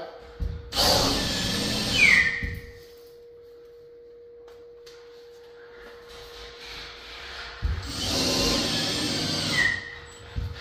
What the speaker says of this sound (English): as I tighten that screw up, it takes away all that movement